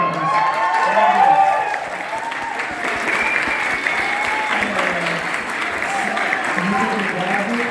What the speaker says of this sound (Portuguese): eles merecem palmas mesmo